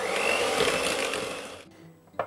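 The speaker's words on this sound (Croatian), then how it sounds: "U žumance dodajemo šećer. Sve ćemo to fino umutiti." An electric mixer whisks egg yolks with sugar, a steady, close, whirring drone that holds for over a second and a half, then cuts off into quiet, ending with a short knock.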